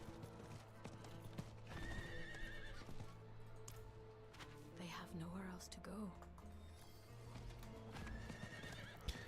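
A horse in the video game Diablo 4 trots with rhythmic clip-clopping hooves and gives a whinnying neigh, set against game background sounds while a person talks quietly over it.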